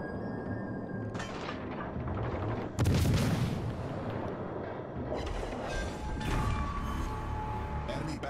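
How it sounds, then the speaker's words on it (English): A battleship in a naval combat game is hit by artillery fire, with heavy booming blasts and rumbling explosions rolling across the scene, the loudest boom landing mid-way over a constant low engine-like drone. "Enemy battleship destroyed."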